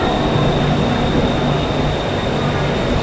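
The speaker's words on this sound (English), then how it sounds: "here's the train." A train on the way to MBK in Bangkok, Thailand, rumbles steadily as it arrives, a loud continuous roar of rail cars with a faint high whine running through it and no talking.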